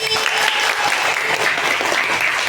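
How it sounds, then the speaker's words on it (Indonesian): Classroom of primary school pupils clapping for a classmate, a steady dense patter of many small hands sustained throughout at moderate loudness, with faint voices mixed underneath. "Kasih tepuk tangan buat Wai"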